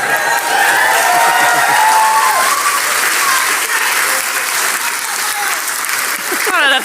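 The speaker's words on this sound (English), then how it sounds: "I don't know if that deserved an applause." Loud, sustained audience applause at a live podcast recording, thick and continuous clapping with faint cheering threaded through, and a voice starting to talk over it just at the close.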